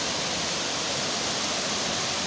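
Budingalu waterfall roars as a loud, dense, unbroken rush of falling water close by, with no voices over it.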